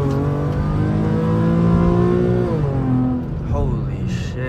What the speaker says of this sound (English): Yo, my tires are spinning.